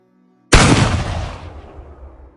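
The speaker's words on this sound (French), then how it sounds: "Il y a eu un coup de feu et Amélia était morte" A single loud gunshot cracks out of near silence and then rumbles away over about two seconds.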